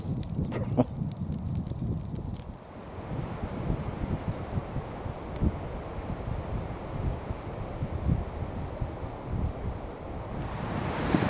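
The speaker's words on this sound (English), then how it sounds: "It is really windy today." Strong wind buffets the microphone in rough, continuous gusts, with a low rumbling roar and occasional knocks.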